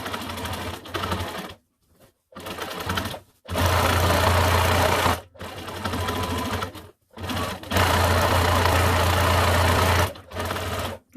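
Domestic sewing machine stitches fabric for a ruffled pillow made from recycled curtain fabric, running at a steady medium pace in several bursts separated by short pauses, close and loud with no talk.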